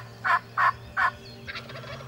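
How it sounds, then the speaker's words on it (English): Wild turkey in Missouri spring woods gobbling, three loud close rattling gobbles in quick succession followed by a fainter, broken call, with no talking. "We went out and found a group of turkeys."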